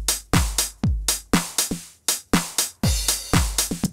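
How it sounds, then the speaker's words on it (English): Drum beat programmed in Ableton Live, a loud, close loop of punchy kicks and crisp snare and hat hits in a steady, syncopated rhythm, played alone without talk. "You have just programmed your first beat in Ableton Live"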